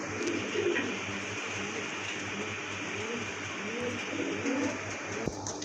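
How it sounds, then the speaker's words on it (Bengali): Quality pigeons at a pigeon farm give steady, repeated cooing at moderate distance over a constant low mechanical hum, with a brief sharp knock near the end. "রেড গিয়ারের কবুতর কোয়ালিটিফুল কবুতর"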